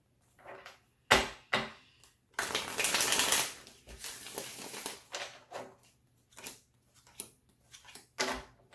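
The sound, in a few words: shuffling tarot cards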